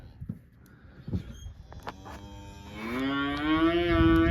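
A Texas Longhorn cow lets out a long, rising moo after some shuffling and thuds, loud and fairly close outdoors while cattle are worked through a chute.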